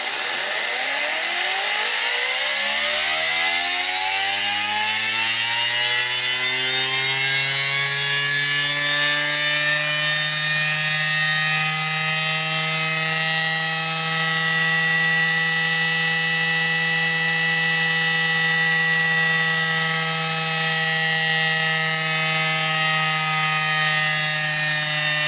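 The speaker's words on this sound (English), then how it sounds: "this little Tesla turbine still produces a large amount of energy from a very small amount of airflow" A homemade Tesla turbine spun by airflow drives a generator, rising in pitch as it spins up into a steady, loud whine with strong harmonics, running alone without talk.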